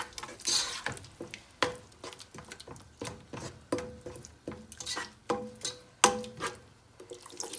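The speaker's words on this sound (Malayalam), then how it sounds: "ഇത് നന്നായിട്ട് നന്നായിട്ട് വഴറ്റുക" Vegetables sautéed with spoonful of curd and biryani masala for a leftover-rice vegetable biryani, soft rhythmic scrapes of a spoon in the pan about every half second over a faint sizzle, quiet and close.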